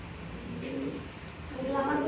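Low, soft cooing from a pair of large pigeons at a Bangladeshi pigeon farm, a quiet murmuring coo rising and falling over steady background noise.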